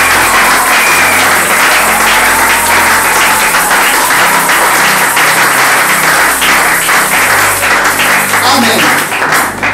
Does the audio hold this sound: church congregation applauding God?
yes